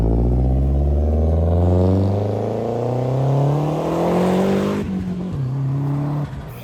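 A 700 HP turbocharged BMW E36 drifting, its engine loud and close with rising and falling revs and harmonics sweeping upward, a brief tire chirp near the end as the pitch drops.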